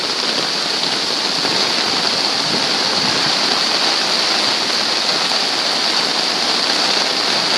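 Floodwater running through a backyard during a fall flood, a loud, constant rushing hiss like a fast stream that keeps steady from start to finish without speech.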